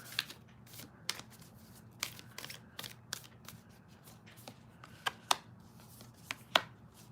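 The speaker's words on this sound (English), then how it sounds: "I want to pull some cards here." Playing cards being shuffled and pulled for a psychic reading, a run of crisp riffling snaps and flicks scattered irregularly over a low steady room hum, close and fairly quiet, with no talking.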